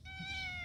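A cat gives a single drawn-out meow, close and clear against a low background hum.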